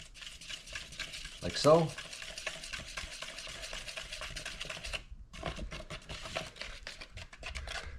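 Fiberglass resin mixture being stirred in a container for repairing fiberglass car ground effects, a rapid scratchy stirring rhythm that pauses briefly near the middle, with a short spoken remark.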